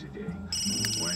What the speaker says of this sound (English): Sam, answer your phone! Answer your phone!